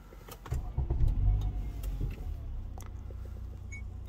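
A car with a P2101 throttle fault code starts up: a short burst of cranking and catching engine noise, then settles into a steadier, quieter idle, heard close with no talk.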